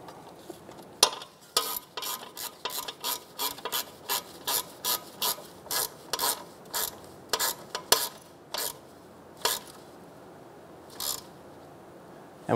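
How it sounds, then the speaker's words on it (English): Ratchet clicking in uneven bursts as a 10 mm bolt is tightened on a 2012-2016 Subaru Impreza front knuckle, installing a wheel speed sensor; close, crisp pawl clicks that thin out toward the end. "Install the 10-millimeter bolt. Go ahead and tighten it down."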